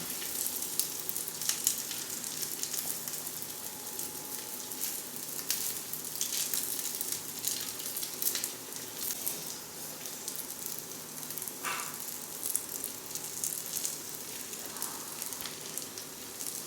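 Soya chunks deep-frying in oil, added a few at a time, make a soft, continuous bubbling sizzle with small crackles at moderate distance.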